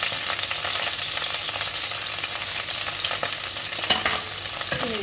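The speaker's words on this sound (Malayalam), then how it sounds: "ഇതിലേക്ക് നമുക്ക് ഈ വെണ്ടയ്ക്ക അരിഞ്ഞതും പച്ചമുളക്" Chopped okra and green chilli fry in hot oil with a loud, continuous sizzle and crackle, broken by scraping and stirring sounds near the end.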